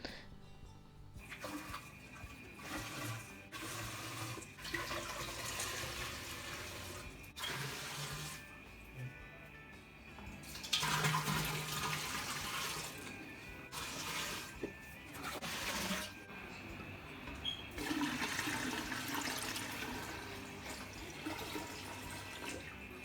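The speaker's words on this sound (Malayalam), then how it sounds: "ഇനി നമുക്കിതിലേക്ക് വെള്ളം ഒഴിച്ചു കൊടുക്കാം." Water is poured into a candle mold holding flowers, splashing and trickling in several separate bursts with short pauses between the pours.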